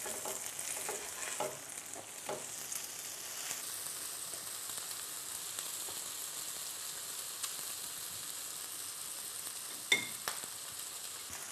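Corned beef fries in a pan with a constant, even sizzle, close and moderately quiet, with a few soft clicks and one sharp tap near the end.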